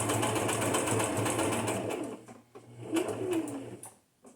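A sewing machine stitching through paper for a junk journal, a rapid mechanical whirring close by that runs for about two seconds, then stops and restarts in short bursts, with light handling noises between.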